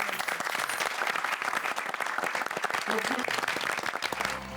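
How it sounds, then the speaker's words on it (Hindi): Audience applause filling a hall, dense continuous clapping from a large crowd that holds steady throughout, with faint voices mixed in. "कितनी तालियां बजा रहे हैं सब"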